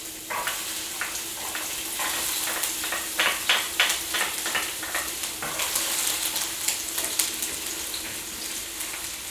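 Onion sizzles in olive oil in a hot pan, a continuous bright crackling hiss with intermittent stirring scrapes and pops, close and fairly loud.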